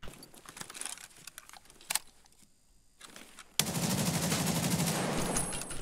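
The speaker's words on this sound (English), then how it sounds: "Got that full auto Mosin, baby." A full-auto Mosin rifle in a shooter game firing a sustained, loud, rapid burst that starts abruptly after quieter, scattered clicks and shots, then runs steadily to the end.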